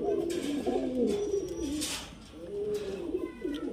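Giribaz high-flyer pigeons coo steadily in low, throaty rolling calls, close by, several birds overlapping with brief pauses.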